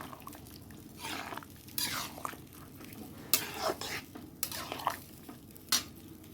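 A pot of Bengali shukto is stirred and handled as ghee goes in and it comes off the heat, with close scraping, metallic clinks and a faint sizzle in uneven bursts.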